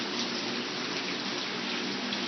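Hail falls outside in a steady, dense hiss of countless small impacts, continuous and even throughout with no talking.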